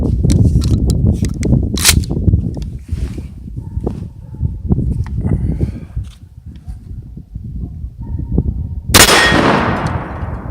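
Shotgun slugs fired at a truck tailgate: a run of sharp, loud cracks with metallic clangs, spaced unevenly, the last blast near the end ringing out with a bright, broad burst.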